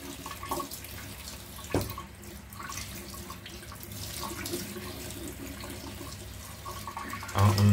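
Kitchen tap running steadily into a sink during home cooking of Jamaican-style fried chicken, a continuous close splash of water with a few small knocks and a louder clatter near the end.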